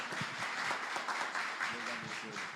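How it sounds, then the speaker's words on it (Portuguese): A church congregation applauds during a service, a fairly close, moderately loud patter of clapping with voices mixed in. "Vocês podem aplaudir ao Senhor pela vida do nosso irmão."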